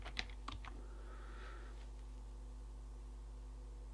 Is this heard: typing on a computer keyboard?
yes